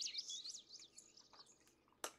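Quiet, high chirps and warbling tweets of birds in the café simulation game Cafe Owner Simulator trill continuously, then fade. A single sharp click sounds near the end.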